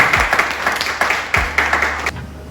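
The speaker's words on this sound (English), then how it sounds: "Give her a round of applause" Claps ring out from a small audience at an evening creator talk, sparse and uneven with a few sharper bursts, close and fairly loud, tapering off near the end.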